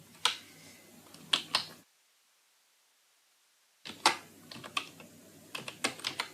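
Keys clatter on a computer keyboard while working in an Excel spreadsheet, in two close bursts of uneven taps separated by about two seconds of silence, with no speech.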